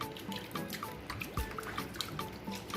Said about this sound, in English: So next we are going to rinse out the